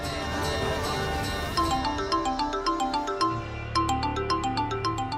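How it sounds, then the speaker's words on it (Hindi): A mobile phone in a Hindi TV drama rings with a bright electronic melody, repeating tinkling notes in a steady rhythm after a brief swell of background music. "बड़े मंदिर से फोन आ रहा है।"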